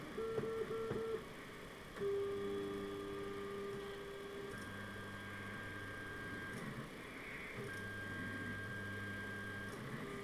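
SeeMeCNC Eris 3D printer running its horizontal radius calibration, with close stepper-motor whines in shifting tones, several sustained steps separated by brief pauses, over a steady low hum.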